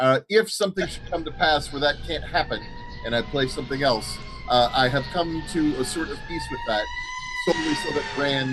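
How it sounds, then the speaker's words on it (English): Emergency sirens wailing in the background, rising and falling tones running steadily under a close speaking voice that dominates throughout. "sorry for the sirens in the background."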